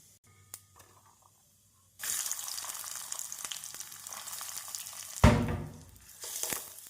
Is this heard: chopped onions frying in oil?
yes